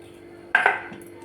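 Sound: pouring tadka (tempering) into dangar mixture in pot

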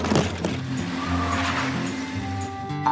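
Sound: cartoon truck arriving

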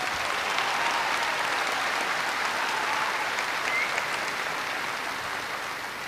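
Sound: audience applause for the choir

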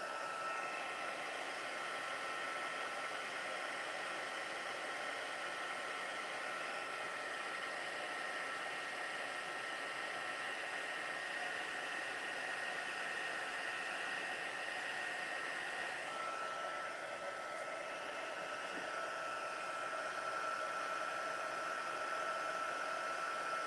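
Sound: heat tool blowing hot air on puff paint

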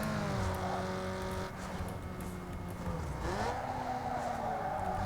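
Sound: car accelerating in Need for Speed Underground 2 video game

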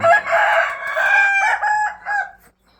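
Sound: young roosters crowing in a full coop

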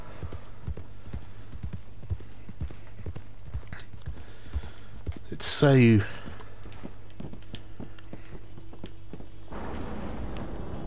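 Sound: horse hooves in Red Dead Redemption 2 video game

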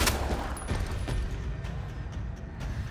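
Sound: gunshots in Resident Evil 2 remake video game

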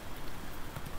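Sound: heavy rain pouring in the video game Icarus

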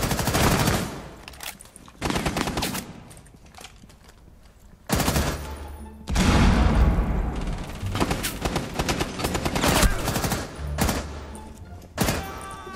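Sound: gunfire from the video game Rainbow Six Siege

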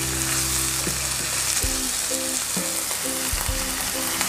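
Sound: water added to green beans frying in a pan

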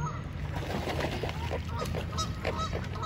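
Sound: birds, likely geese, honking at Echo Park

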